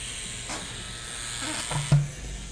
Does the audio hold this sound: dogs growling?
no